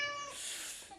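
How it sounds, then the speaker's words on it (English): A cat gives a single drawn-out meow, fairly clear and close, fading out after about a second. "It makes that dreadful meow"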